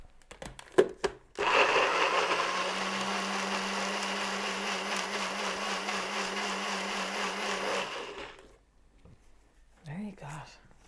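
A blender purées tomato and asparagus soup with a loud, steady whir for about six seconds. A few sharp clicks come just before it and a brief faint voice follows.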